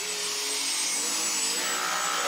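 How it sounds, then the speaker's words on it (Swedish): A vacuum cleaner runs steadily on a rug, its broadband whirring hiss holding constant and fairly loud throughout with no voices. "Angående dammsugaren där också så ser vi att den tar upp väldigt mycket mer damm."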